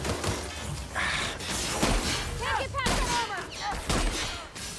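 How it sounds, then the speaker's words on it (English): Rapid shotgun blasts and crashing impacts from The Outer Worlds video game combat, a dense barrage of loud overlapping shots and smashes filling the clip with no pause. "use the bloody shotgun"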